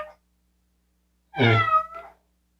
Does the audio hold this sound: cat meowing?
yes